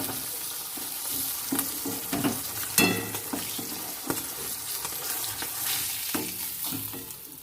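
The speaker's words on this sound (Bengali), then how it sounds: "বন্ধুরা মাছ ভাজা হয়ে গেছে।" Fish frying in hot oil in a pan gives off a steady, close sizzle, with scattered clinks and scrapes of stirring throughout.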